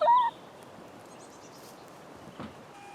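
Chickens in a backyard garden, having eaten broccoli, give one short clucking call near the start, then only faint rustling and scratching follow in quiet outdoor surroundings.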